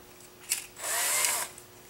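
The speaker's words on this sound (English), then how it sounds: "So drill two holes." A power drill whirs briefly, then runs steadily for under a second as it bores a hole in a Bruder toy bulldozer being converted to RC, close and fairly loud, with no talking.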